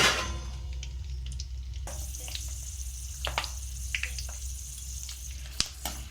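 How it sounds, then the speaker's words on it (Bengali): Curry leaves, chilies and peanuts fry in oil in a wok, sizzling and crackling steadily, with scattered pops and occasional scraping of a utensil, close and without talking. "কড়াইতে তেল গরম হচ্ছে, আমি ততক্ষণ ক্যারি পাতাটা ভেজে নিচ্ছি"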